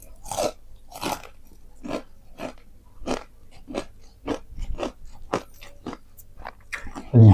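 Crispy fried chicken skin from nasi padang is chewed close to the mic, a steady series of about a dozen loud, crackly crunches in an even rhythm, with no talking.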